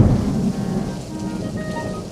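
Heavy rain pouring steadily on a surface with a deep rumble of thunder rolling underneath, loud and close, fading slightly toward the end.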